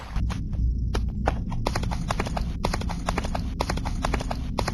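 Rapid hooves clip-clopping at a steady trot, close and fairly loud, with a continuous low rumble underneath and no talking, from a horse in the Android game West Gunfighter.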